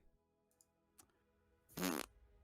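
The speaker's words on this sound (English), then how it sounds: "We get that fart sound effect." Fart sound effect in a tabletop D&D session, one short loud raspy burst near the end after a few faint clicks and near silence.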